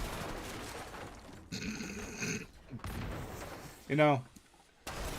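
Shotgun blasts in the indie shooter Dino Blastin, a few heavy booming shots spaced apart between bursts of game noise, with someone talking over parts of it.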